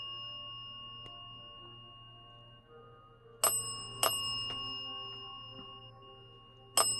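A small bell rings three times with bright, ringing strikes spaced apart, over a steady low background hum in a quiet room, with no talking.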